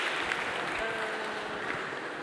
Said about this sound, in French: Ça s'applaudit entre eux, c'est bien.